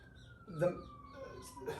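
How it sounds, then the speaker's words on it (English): Emergency vehicle sirens climb a mountain road in the distance, a thin, steady wailing tone that drifts slowly in pitch beneath a person speaking nearby. "So we've got some sirens coming up the mountain."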